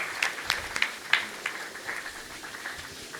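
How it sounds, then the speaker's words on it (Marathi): Enthusiastic audience applause at a Marathi Europe tours launch event, a dense run of claps that peaks early and then tapers off gradually over a few seconds. "एकदा जोरदार टाळ्या वाजून खापके कुटुंबियांचं आपण एकदा अभिनंदन करूयात"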